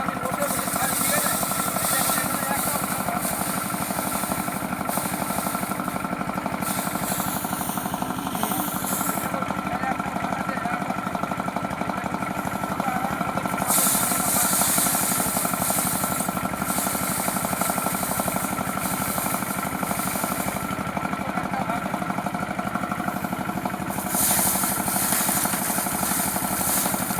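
A large pump at a farm station runs with a continuous, loud mechanical drone and rattling hum that never lets up, with someone talking over it.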